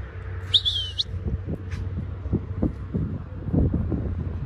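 Caged birds chirp in short bright bursts near the start, over a steady low hum and wind-like rumble, with faint intermittent knocks through the rest.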